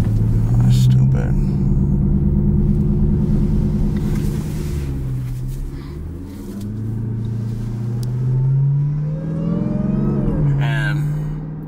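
A Jeep Trackhawk with its thermostat deleted rumbles while driving, the engine note rising and falling as it accelerates and eases off, with someone talking over the drone.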